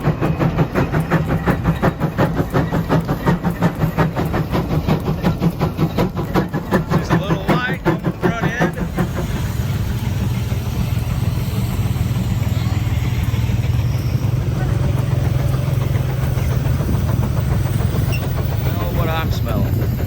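Rare old engine running steadily at close range, a loud, continuous rhythmic chugging throb that keeps a regular pulse without letting up throughout.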